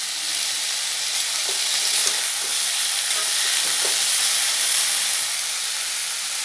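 Food fries in a pan as salt is added, producing a loud, continuous hiss and sizzle with a few faint stirring clicks, steady from start to finish without speech.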